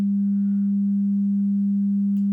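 A steady pure test tone played back as 16-bit samples, constant and loud from start to finish, alone with no other sound.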